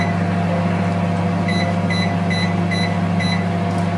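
An IFB microwave oven runs with a steady hum while a series of short, sharp beeps sound at regular intervals as it is set to 160 degrees for 25 minutes.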